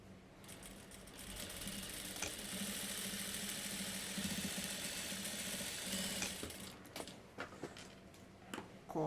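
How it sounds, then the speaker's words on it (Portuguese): A sewing machine stitches straight along a seam line to close a milk carton box lined with fabric: a continuous, close mechanical whir for about six seconds, then stops and gives way to a few short bursts and handling clicks. "vou costurar em cima da linha e vou reto até o outro lado, para fechar a minha caixa de leite."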